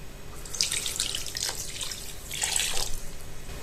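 A 250 ml glass of water poured into a pot of grape spoon-sweet preserve, heard as two short splashing bursts of liquid, close and moderately loud, with no talking.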